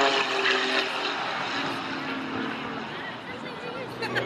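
Pitts Special aerobatic propeller biplane flying a display at Weston Park in 2019, its engine a steady, loud, buzzing drone that holds throughout with little change in level.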